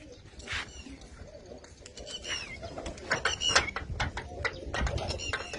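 Pigeons coo at a village headman's house in Lalluana, soft repeated calls with a few chirps, fairly quiet and near, over a light background hum.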